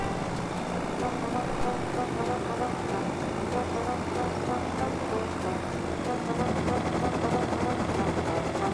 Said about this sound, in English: Hop in the chopper and away we go to the pump jack.